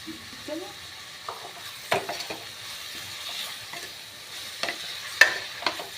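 Egg varuval frying in a pan and being stirred, a soft continuous sizzle broken by scraping strokes and clinks of a spoon against the pan, fairly quiet and close, with no one talking.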